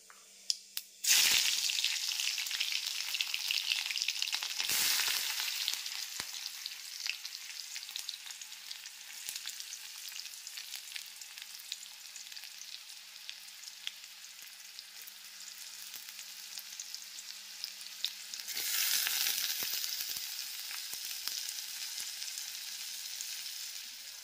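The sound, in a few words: mustard, chilli, onion and tomato frying in hot oil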